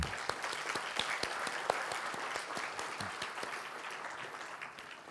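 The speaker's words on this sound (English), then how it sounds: "So we should give our colleagues a big round of applause." Steady applause from an audience at a gala dinner marking a 40th anniversary, many hands clapping densely and continuously, fairly distant and moderately loud, fading slightly at the end.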